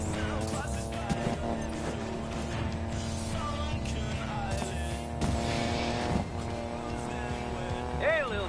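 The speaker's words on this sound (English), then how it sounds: "Better hurry, engines are revving." Race car engines rev and roar continuously in Need for Speed Payback, a busy layered mix of engine drone with occasional bursts and sweeps, heard at moderate loudness without speech.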